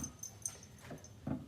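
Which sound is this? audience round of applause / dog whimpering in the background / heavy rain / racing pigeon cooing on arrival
dog whimpering in the background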